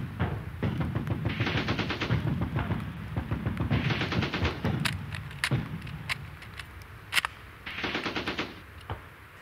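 A Bren gun gives covering fire during a WWII rifle field-firing exercise, loud rattling bursts of automatic fire in three long strings with separate sharp single shots between them, fairly close.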